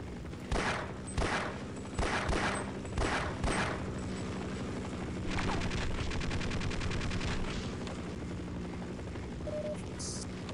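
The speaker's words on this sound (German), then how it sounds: "Jetzt höre ich den Heli wieder." In the video game Half-Life, several sharp bursts of gunfire crack in the first few seconds, then give way to the steady, rapid thumping drone of a pursuing helicopter.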